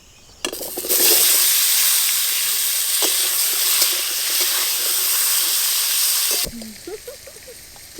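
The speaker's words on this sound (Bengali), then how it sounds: "মাছ ভাজার তেলেই মূলোগুলো একটু ভেজে নেব" Radishes hit leftover hot oil from frying shol fish and sizzle with a loud, steady, hissing crackle for about six seconds, then cut off sharply, followed by soft kitchen clatter and a voice.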